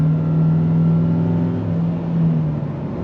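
A 2022 Nissan Frontier pickup with a 9-speed transmission pulls away under throttle, a loud, steady engine drone rising slightly in pitch, heard from inside the cab with no talking.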